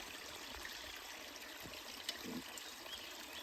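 Water trickles and gurgles faintly and steadily as a hand-operated trail water filter is pumped outdoors beside a stream, with a few soft clicks and a faint bird in the background.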